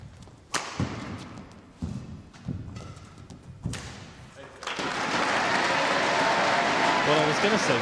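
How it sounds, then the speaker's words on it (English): Polite applause from spectators at a National Badminton League match between University of Nottingham and MK Badminton, starting near and fairly loud after a few thuds and sharp hits, then holding as a steady clapping wash. "there was polite applause on the first one"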